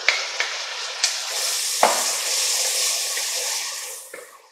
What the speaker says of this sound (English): So now we're going to add in our celery.